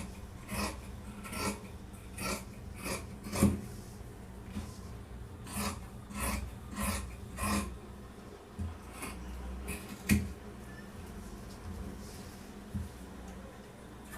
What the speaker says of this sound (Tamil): இப்போ கீழ்ப்பகுதியிலிருந்து கட் பண்ணிக்கலாம்.